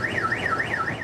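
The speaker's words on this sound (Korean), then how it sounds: "3분 안에 이 버튼을 눌러야 경보음이 꺼집니다." A school bus child drop-off check device sounds its alarm: a loud, steady electronic tone that warbles up and down in pitch in a regular repeating cycle, several sweeps in a row with nothing else over it.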